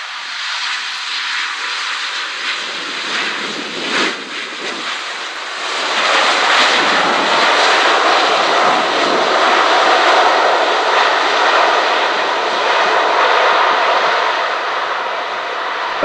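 A heavy jet airliner arrives on runway 26 right at Vancouver on a windy afternoon, its engine roar swelling from a distant whine into a loud, sustained rushing that holds steady to the end, with wind noise and no talk.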